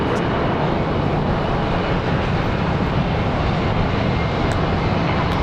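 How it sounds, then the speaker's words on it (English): A Boeing 777 at Charlotte Douglas airport produces a steady, broadband jet engine roar, loud and unchanging throughout the short stretch with no talk. "Got the 777 coming up next"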